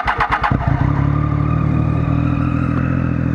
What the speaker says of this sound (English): Do you hear that whistle and the bass because of the aero?